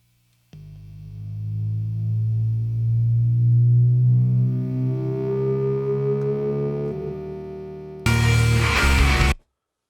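A sustained Moog Sub 37 synthesizer tone swells and rises in pitch like a lift-off, ending in a short burst of bright noise before cutting out.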